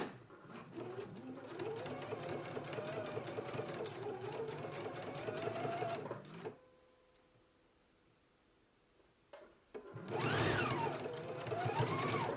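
A sewing machine runs steadily, basting lapels onto the front of a garment, then stops for a few seconds before starting again.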